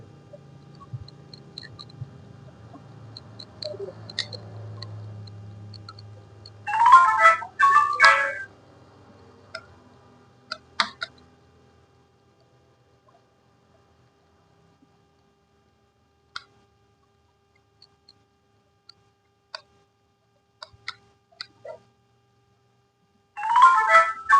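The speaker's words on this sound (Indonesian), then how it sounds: "Ini HP-nya bunyi aja, ganggu" A mobile phone rings during aluminium rolling work for a Shimizu pump, short bursts of an electronic ringtone near the start and end, with faint clicks and low machine hum between long quiet gaps.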